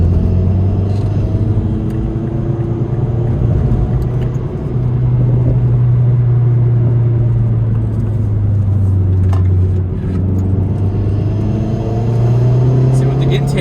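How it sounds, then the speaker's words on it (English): A first-generation Mazdaspeed3 with a turbocharged engine and intake sound modifications drones along steadily inside the car, the engine note rising and falling slightly under continuous road rumble, with a voice talking throughout. "what I did to this car are just sound mods. He just wanted to hear the turbo."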